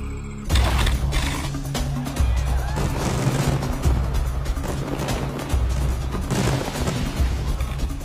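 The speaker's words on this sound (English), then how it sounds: "has to manually fire each batch of firework effects with precision timing" Batches of fireworks launched from a rooftop by a pyrotechnician, sounding as dense, continuous loud bursts and crackling booms that roll on for several seconds with no pause, close and powerful.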